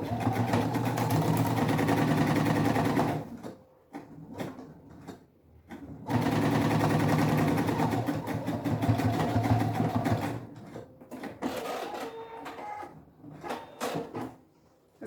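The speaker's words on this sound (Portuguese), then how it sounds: "eu faço uma costura para fixar nas laterais e na parte de baixo" A sewing machine stitching the sides and bottom of a pocket, in two long runs of steady fast whirring stitches separated by quieter pauses with handling clicks and fabric rustle.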